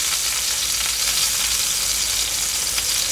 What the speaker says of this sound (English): So you want to cook this steak to the middle, like to medium, before you start putting any sauces in.